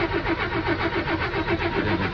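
A small cord-start engine with an unbled fuel pump cranks over in a fast, even rhythmic chugging, loud and close, without catching, and no one speaks.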